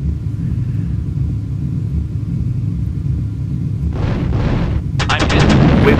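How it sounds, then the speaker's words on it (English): Enemy fire hits a Eurofighter Typhoon in the EF2000 flight game, with short noisy crackling bursts and then a fast rattling volley over a steady low engine rumble. "Oh, we're under fire."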